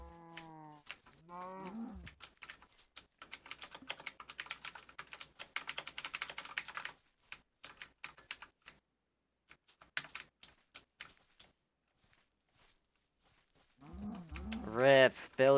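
A cow in a Minecraft-style game lets out low, drawn-out moos at the start and again at the end, with rapid keyboard typing clattering through the middle.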